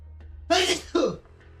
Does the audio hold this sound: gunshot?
no